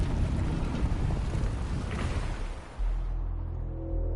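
A waterfall in the video game Wuthering Waves roars as a loud, continuous broadband rush, then drops to a quieter low hum partway through.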